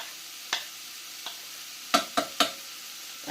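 Garlic going into a hot pan, a faint steady sizzle with a few sharp scrapes and taps as it is stirred, close by and quiet.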